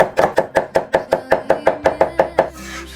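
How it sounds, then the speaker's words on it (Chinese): A knife chops potatoes on a board for shredded potatoes in Gansu home cooking: about a dozen sharp, even strokes in a quick, steady rhythm, close and clear, then a short quiet tail with no talking. "先来切点土豆"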